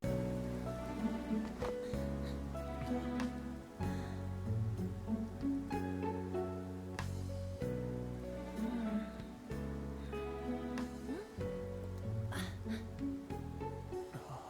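Rain falling in the Persona 5 video game, a soft continuous patter heard beneath prominent game music with repeated chords and percussive accents.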